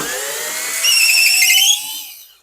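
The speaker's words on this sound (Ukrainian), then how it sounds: "Закручую в ще одне місце." A 12 V cordless screwdriver driving a screw, a short rising motor whine that swells, holds briefly and then winds down and fades, heard alone at close range.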